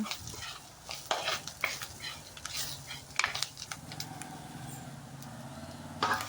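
Fenugreek, onion and garlic sautéing in a pan for a sardine curry, with soft steady sizzling, a spoon scraping and stirring in irregular strokes, and occasional clinks against the pan throughout.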